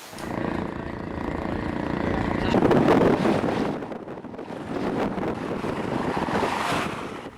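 Large ocean waves surge and crash around a speedboat at sea, with heavy wind rushing across the microphone, loud and continuous with a swell in the middle.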